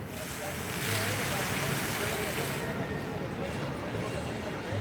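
Running water fountains at Universal Orlando theme park at night, a broad steady rushing wash heard outdoors with wind buffeting the microphone and a faint voice in the background.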